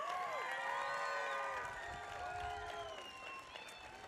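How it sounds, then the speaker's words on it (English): At a graduation commencement, an audience applauds the graduating seniors as a faint, distant roar of clapping and cheering, with a few voices and whistle-like tones rising above it. "Let's give one round of congratulatory applause to our graduating seniors."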